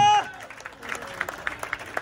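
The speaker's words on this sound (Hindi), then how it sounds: "एक बार जोरदार तालियां बजाएं" Applause for an ex-army man on stage at an event in Jaipur: after a brief tone, loose, moderately loud clapping from a small crowd comes in uneven bursts.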